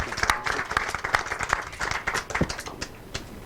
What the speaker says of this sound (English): Please, can you clap?